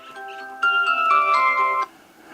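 A phone ringtone plays during outdoor filming, a bright electronic melody of sustained tones lasting under two seconds, fairly loud and close, with no talk over it.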